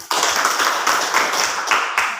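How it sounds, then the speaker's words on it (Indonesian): Hands clapping together in a school classroom, a quick run of sharp, evenly spaced claps lasting a couple of seconds, close and fairly loud with no talking over them. "Tepuk tangan."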